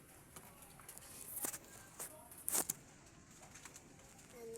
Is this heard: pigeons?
yes